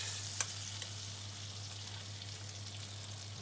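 Mackerel fillets fry in a pan while being basted with a spoon, a steady bright sizzle with a constant low hum beneath and one small clink near the start.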